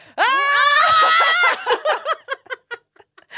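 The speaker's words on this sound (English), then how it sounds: "Should we do a scream?" A group of people lets out one loud, sustained scream together for over a second, then breaks into short bursts of laughter and giggles.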